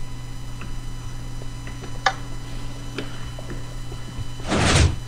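In Minecraft, a piston door slides open after a button click, a short burst of whooshing mechanical noise near the end, preceded by faint ticks and clicks over a low steady hum.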